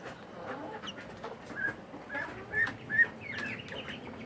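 Itik ducklings in a brooding cage give soft, scattered peeps, with a few brief high chirps standing out over a low, steady background murmur.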